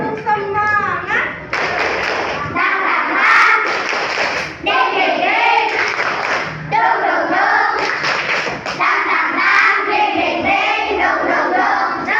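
A school class performs a rhythmic spirit clap chant, with loud group clapping in patterned bursts mixed with shouted voices, close and energetic throughout.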